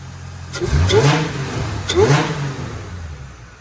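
Holden VY Calais drift car with an L67 engine revs twice in quick blips over a low idle, loud and close, with a voice briefly heard.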